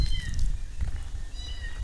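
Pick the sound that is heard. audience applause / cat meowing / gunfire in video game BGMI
cat meowing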